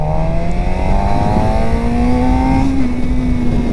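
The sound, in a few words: Suzuki GSX-R600 motorcycle engine accelerating in first gear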